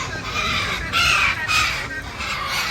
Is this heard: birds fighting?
yes